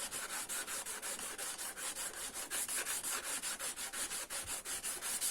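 Rapid back-and-forth scraping of 80-grit sandpaper on a car mirror cover, fairly quiet and close, with a steady rhythmic stroke repeating about four times a second.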